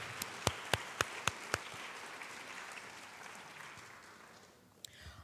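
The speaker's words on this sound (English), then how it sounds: "Let's give them a round of applause" Applause at an employee recognition awards event: a few sharp, evenly spaced claps up close over a soft wash of clapping from the audience, thinning out with a last clap near the end.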